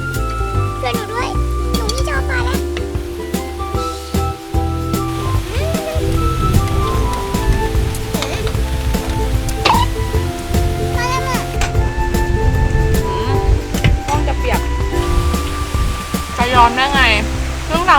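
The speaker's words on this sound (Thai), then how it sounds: "ตอนนี้ฝนก็คือยังไม่หยุดตกนะคะ" Heavy rain pours steadily at a rural campsite beside a hut in the fields, a dense continuous hiss, with someone talking over it and some tonal background sounds.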